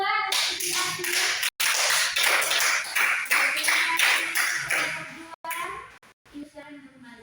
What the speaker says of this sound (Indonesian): Kita tepuk tangan dulu untuk kelompok 2.